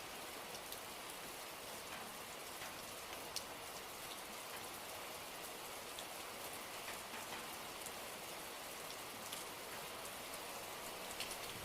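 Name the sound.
heavy monsoon rain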